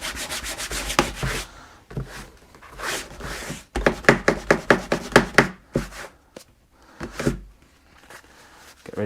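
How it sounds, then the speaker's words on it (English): A rag rubs down a handmade leather belt in quick, rhythmic scrubbing strokes, coming in close bursts separated by short pauses. "I'll just get a rag again, just a piece of material, and what I'm going to do is just give this a rub down."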